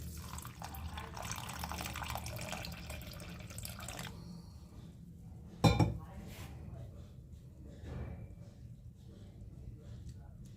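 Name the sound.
washing roasted moong dal in water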